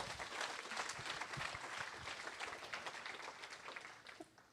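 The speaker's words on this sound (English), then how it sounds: "Let's give ourselves a huge round of applause." A crowd at a hackathon closing ceremony claps in a dense, fairly distant wash of applause that holds steady and then tapers off near the end.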